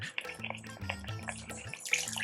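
Water splashes and gurgles as it is poured into a cooking pot, close by and fairly quiet, with small drips and clinks.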